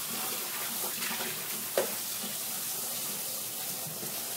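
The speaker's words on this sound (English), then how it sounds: "now that I'm done, I'm gonna wash the spinach." Tap water runs steadily over spinach leaves being washed in a kitchen sink, a soft continuous splashing hiss with one brief louder clink partway through, no talking.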